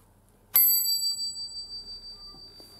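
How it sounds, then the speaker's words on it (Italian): The largest bell of a personal miniature bell tower modelled on Desio's, tuned to C6, is struck once, giving a bright, clear ring whose shimmering tone hangs and slowly fades over about two seconds. "partendo dalla campana più grande, di nota Do 6, ecco il campanone."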